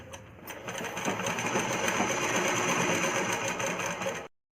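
A sewing machine runs steadily for about four seconds, stitching cloth folded twice for a child's umbrella frock, with an even mechanical whir that stops abruptly at the end.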